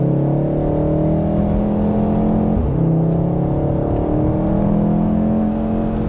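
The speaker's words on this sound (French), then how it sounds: "Et là, on entend vraiment derrière à l'échappement." A Volkswagen Golf 7R's engine and exhaust drone loudly and continuously from inside the car on a road test, the pitch rising, dipping briefly, then climbing again as it revs.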